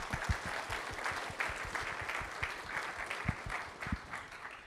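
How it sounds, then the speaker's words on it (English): Warm applause rises from the audience at a conference opening ceremony, dense clapping with a few sharp, close claps standing out, steady throughout with no voices over it. "a round of applause to everybody who's here"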